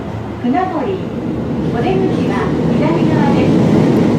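Steady rumble and hum of a Tokyo subway train in motion, with a voice speaking over the interior noise.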